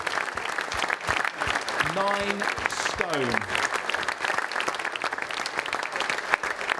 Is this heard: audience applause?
yes